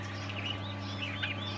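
Young turkeys being raised on a home farm give faint chirping calls over a steady low electrical hum, with no talking.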